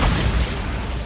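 A Bombarda explosion spell in Hogwarts Legacy bursts as a dense, loud, broadband blast that fills the short moment with rumbling, crackling energy and no voices.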